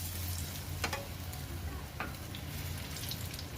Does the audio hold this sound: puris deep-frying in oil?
yes